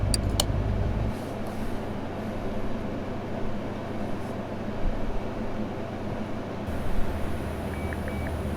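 A steady car engine hum in Car Mechanic Simulator 2018 rumbles low and continuous, with a few sharp clicks at the start and a slight shift in tone partway through.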